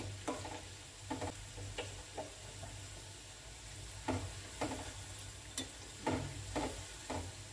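Bread pakoda deep frying in hot oil, a soft steady sizzle with repeated stirring clinks and scrapes at irregular intervals, fairly faint and with no voices.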